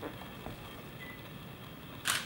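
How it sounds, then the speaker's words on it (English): A single camera shutter release near the end, bright and short against a quiet room hum, shot during a window silhouette photography setup with exposure adjusted. "And shoot it again."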